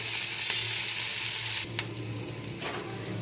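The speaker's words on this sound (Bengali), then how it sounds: "পেঁয়াজটা একটু ভাজা ভাজা হোক।" Onions fry in a pan with a bright, continuous sizzle. It drops a little in level partway through and carries on alone without talk.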